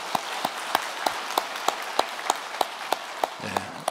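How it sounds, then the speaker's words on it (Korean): A church congregation claps in a steady, even rhythm during a worship service, with evenly spaced distinct claps that sound fairly faint and distant. "박수 한번 치십시다."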